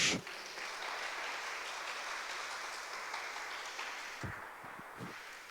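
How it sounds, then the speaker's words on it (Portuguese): Church congregation applauding in worship, a steady broadband wash of clapping that runs throughout at moderate level, with a few louder isolated claps near the end. "Quantos aplaudam o Senhor?"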